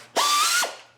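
A ratchet clicks in one quick, loud buzzing burst about half a second long as 10 mm bolts are run down on a 19 hp Kohler engine from a 2004 Cub Cadet, with no talk over it.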